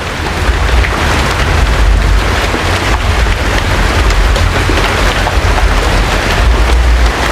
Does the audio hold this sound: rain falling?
yes